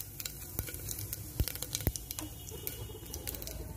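Cumin seeds tempering in hot oil, a faint crackling sizzle with scattered light pops and a couple of soft knocks, quiet and close with no talking.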